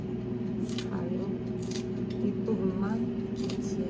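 Kitchen scissors snip green onion tops in a few quick, crisp cuts, close and distinct over a steady background hum, with a voice speaking throughout.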